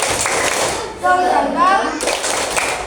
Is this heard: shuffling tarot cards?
no